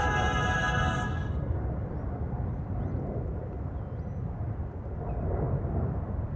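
KLM Boeing 787 Dreamliner on flight 515 departing Amsterdam Schiphol, a steady broad jet engine roar filling the scene, fairly distant and even throughout, with a faint high whine fading early on.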